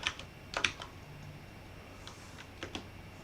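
Scattered clusters of soft computer keyboard keystrokes, a few quick taps at a time with pauses between, close but quiet in a still room.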